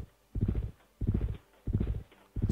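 Horse hooves from a horseman unit moving in Civilization III make steady clip-clop bursts, four evenly spaced groups of close, clear hoofbeats with no talking.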